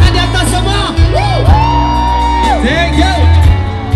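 A concert crowd at a show in Bukittinggi cheers, whoops and shouts loudly and continuously over music, with the singer's voice carried along on top.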